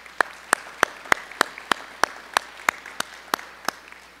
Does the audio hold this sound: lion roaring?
no